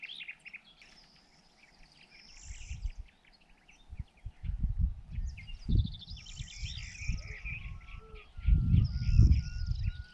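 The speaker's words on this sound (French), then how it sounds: "Il y en a des oiseaux." Birds call outdoors in the open countryside, high chirps and trills coming and going at moderate distance, with intermittent low rumbling wind or handling noise underneath.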